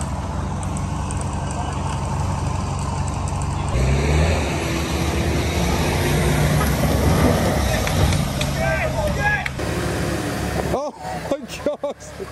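A Jeep engine rumbles steadily while driving off-road, loud and close with rattling and bumps, then cuts to choppier knocks near the end, with voices talking over it.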